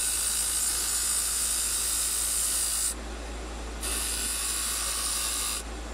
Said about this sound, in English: I'm using a parting tool for this instead of my skew